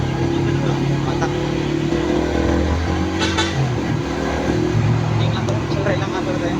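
A Rusi Flame motorcycle engine drones steadily on a relaxed ride through traffic, loud and constant with wind rumble, while a voice talks throughout.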